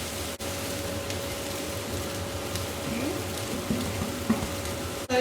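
Prawn fried rice sizzles and crackles steadily in a hot pan as it is tossed and heated, a constant close frying hiss with a few brief knocks of the pan.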